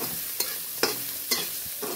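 Food sizzling steadily in a hot pan with very little oil, with a few soft scraping knocks from stirring at regular intervals and no voices.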